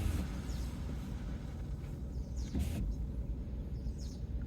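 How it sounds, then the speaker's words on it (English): Faint bird chirps come through a steady rumble of passing traffic on Wayne Avenue in Paterson, with a few brief high calls scattered over several seconds. "Got the birds singing."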